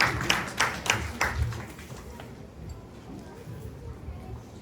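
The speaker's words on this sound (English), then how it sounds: "Let's give him a round of applause, please." An audience at a 40th birthday celebration claps in a burst of sharp, evenly spaced hand claps that fade out after about two seconds, mixed with talking.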